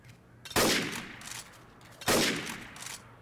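Two loud, booming gunshots in the video game Left 4 Dead 2, about one and a half seconds apart, each with a sharp crack and a long decaying tail, standing alone over quiet game ambience.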